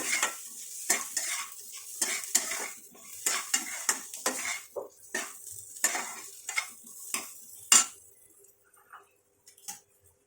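Paneer pieces frying in ghee and being stirred in a pan, with repeated metallic scrapes and clinks of a spatula over a soft sizzle, close and busy, fading to sparse knocks near the end.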